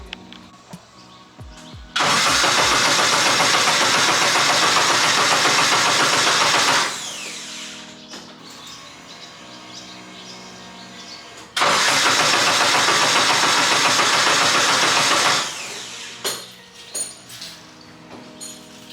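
A K-swapped BMW E30 cranks and fires twice, each time a loud, steady roar of several seconds cutting off abruptly, with quieter mechanical clicks and rattles between and after the runs.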